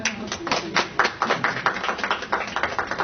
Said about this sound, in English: We should clap for Saeed.